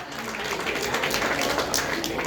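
A crowd at a Ramcharitmanas recitation gathering claps in a dense, sustained patter of applause that carries evenly throughout the moment without breaks.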